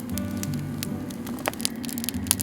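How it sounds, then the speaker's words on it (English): Crackling campfire beside a frozen river in Alaska, sharp irregular pops and snaps close by over a low steady rumble. "A nice warm fire."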